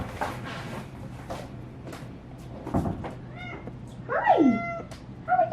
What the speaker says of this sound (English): I have a cat who's trying to get in my room.